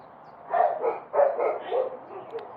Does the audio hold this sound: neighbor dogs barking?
yes